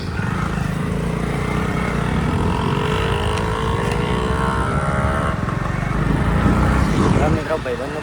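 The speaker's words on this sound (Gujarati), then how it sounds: "ચલો, આપણને બાઇક મળી ગયું અને આપણે બેસી જઈએ બાઇક પર" A motorbike rides along a road toward Minawada during the Dashama vrat festival, its engine and wind rumbling loud and steady throughout while people talk over the noise.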